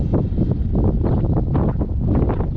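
Strong wind buffets a small Talon 250 g drone in flight, producing a loud, continuous low rumbling rush with gusty swells and no clear pauses.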